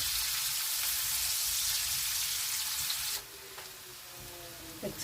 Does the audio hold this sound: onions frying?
yes